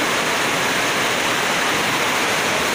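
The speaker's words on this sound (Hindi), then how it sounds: "आज का जोरदार बारिश हो रही है" Heavy rain pours down in a steady, dense hiss that holds constant throughout, loud and close, with no voices.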